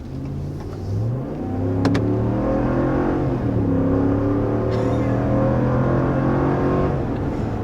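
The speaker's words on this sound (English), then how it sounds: "This is a fast truck with this Hemi V8, and it makes all the right sounds." A 2021 RAM 1500 Limited pickup with a 5.7-liter Hemi V8 accelerates hard, its engine note rising steadily through the gears with a deep, continuous roar heard from inside the cab, loud and unbroken.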